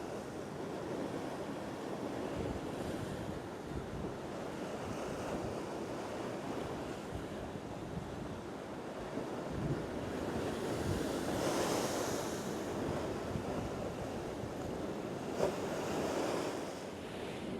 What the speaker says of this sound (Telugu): అలలు చూస్తున్నారు కదండి ఏ విధంగా వస్తున్నాయో.